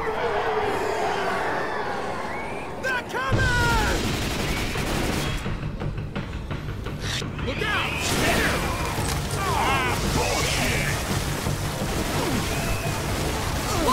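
A mounted machine gun fires in Left 4 Dead 2 as dense, continuous bursts of gunfire over a long stretch, with shouting voices and game noise mixed in.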